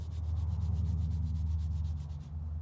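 Steady back-and-forth hand scrubbing of body filler with 320-grit wet or dry sandpaper, close and even in rhythm, stopping briefly near the end.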